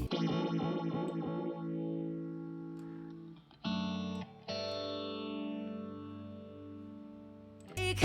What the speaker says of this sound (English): you can turn the oscillator up here and you'll get more, I mean, crazier sounds